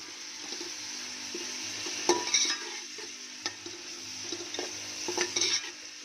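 Tomatoes for potato pulao fry in a pan while a utensil stirs them, giving a steady soft sizzle broken by scraping clinks and taps, close and fairly quiet with no talking.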